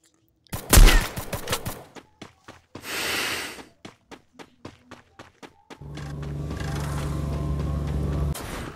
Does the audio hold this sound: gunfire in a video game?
yes